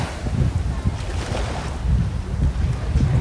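Ocean waves roll in at Bangtao Beach in Phuket, a close, surging wash of surf in repeated swells mixed with gusty wind buffeting.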